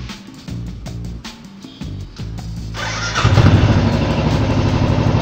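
A Royal Enfield EFI motorcycle engine idles with a steady low thump that grows louder and busier after a few seconds, as if the revs are raised, with no talk over it.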